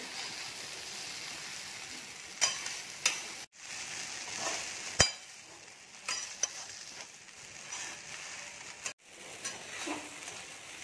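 Flattened rice (kande poha) being stirred and mixed in a pan, soft scraping and shuffling with a faint sizzle, several sharper spoon knocks against the pan, close and alone without talk.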